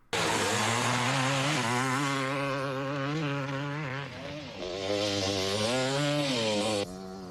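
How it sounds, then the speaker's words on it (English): An old dirt bike engine roars continuously in a scene from the horror film Pumpkinhead, its pitch rising and falling as it is ridden hard, loud and close throughout before cutting off near the end. "Joel thinks now is the prime time to try out that old dirt bike."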